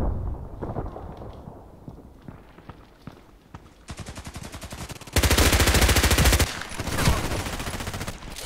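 Gunshots in the shooter game Contract Wars on the Bay 5 map, with scattered single shots early, then sustained loud bursts of rapid automatic fire and a dense volley near the end.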